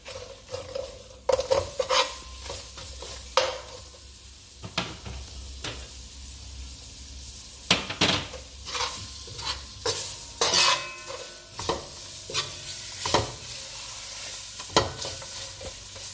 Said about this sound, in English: I'm just going to let it fry for a little bit, and I'm adding the onions and the thyme to it.